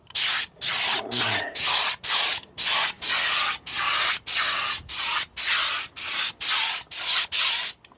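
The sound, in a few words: spray gun spraying on a salvage car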